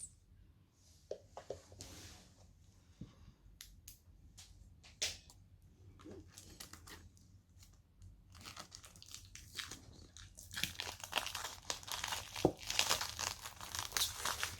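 A new deck of Thelema tarot cards is handled and unwrapped, giving off crinkling, crumpling and tearing of wrapping close up. The sounds come in scattered bursts that grow denser and louder toward the end.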